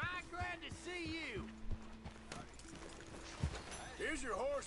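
Horse hooves clip-clop at a steady walking rhythm in the Western game Red Dead Redemption 2, heard under people talking, with a whinny-like sound near the end.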